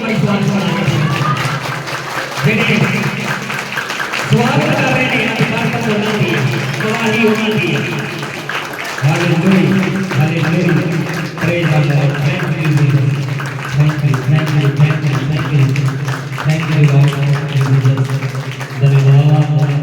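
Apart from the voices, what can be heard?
congregation clapping loudly in church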